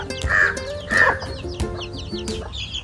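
Nearby, a rooster gives several loud, clucking calls in quick bursts, with softer chirps trailing after.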